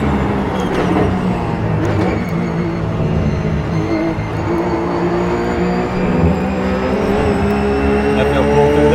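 A RUF race car driven in the iRacing simulator at Daytona, its engine a loud, sustained drone whose pitch holds and shifts gently at speed, with no speech.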